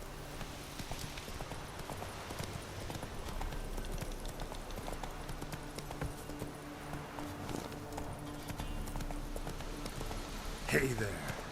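Hoofbeats of the horse Roach in The Witcher 3 clip-clop steadily along under game ambience, with occasional character speech over them and a brief louder clatter near the end.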